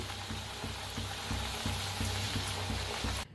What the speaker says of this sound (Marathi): तळून बी आणि सगळं बनवून घेते मी बी.